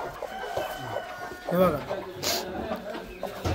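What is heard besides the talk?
broody hens clucking in a poultry coop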